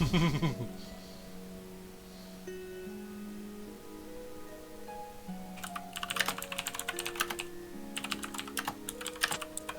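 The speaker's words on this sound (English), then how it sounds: "Furious typing ensues." Furious typing on a computer keyboard during a tabletop game session: quiet scattered keystrokes at first, then dense rapid clattering bursts that grow louder toward the end.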